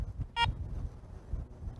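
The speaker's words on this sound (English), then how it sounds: "press the power button and hold for about 1 second until you hear that second beep" A Garrett 400 metal detector gives a single short electronic beep as its power button is pressed, fairly faint over a low background rumble.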